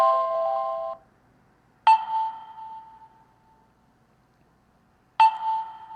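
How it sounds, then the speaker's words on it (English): Sonar-like ready chime from a Reolink Argus 3 security camera after a reset: a short tone, then two sharp pings a few seconds apart, each ringing out and fading in a quiet room. "now there's this sound like a sonar sound that indicates the camera is ready to connect"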